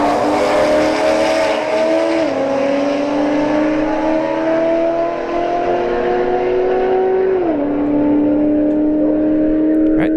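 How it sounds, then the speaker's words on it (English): An A90 Supra and a C6 Corvette run a drag race, engines roaring loudly with rising revs broken by two clear upshifts over about ten seconds, no voices over them. "A90 Supra in the left lane. The C6 in the right lane."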